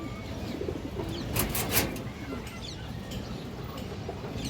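Pakistani high flyer Rampuri pigeons, including a black-laced hen, coo faintly in a loft, soft repeated murmurs with a brief burst of fluttering or clatter partway through.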